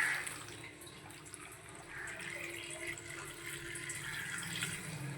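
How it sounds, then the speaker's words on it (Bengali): Fresh water poured into a cooking pot, a quiet continuous splashing and trickling that holds steady for several seconds, fairly faint and without speech. "আর দিয়ে দেবো জল কাঁচা জল"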